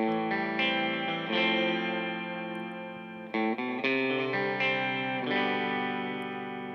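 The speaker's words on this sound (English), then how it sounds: "as a simple guitar chord progression" A simple chord progression on an electric guitar, strummed chords ringing out with a shimmering chorus-like effect, changing every second or so, clean and close with no voices.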